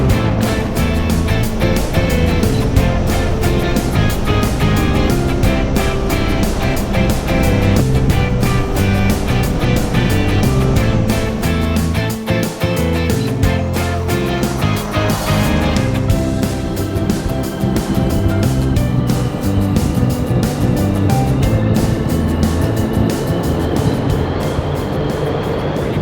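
A restored 66-year-old Land Rover cruising in fourth gear at the speed limit gives a loud, steady engine drone with road and gearbox rumble, unbroken for the whole stretch with no talking.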